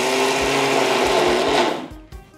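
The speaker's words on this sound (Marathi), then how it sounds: "जितकी शक्य असेल तितकी बारीक ही दळून घ्यायची, पाण्याचा कमीत कमी वापर करून." A kitchen mixer grinder whirs loudly and steadily while grinding soaked lentils into a thick paste with little water, then winds down and stops near the end.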